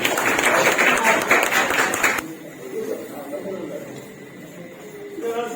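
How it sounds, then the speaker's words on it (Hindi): An audience at an Urdu poetry gathering claps loudly to welcome a poet, a dense burst of applause that stops abruptly after about two seconds, leaving quieter room sound and voices. "आपकी भरपूर तालियों।"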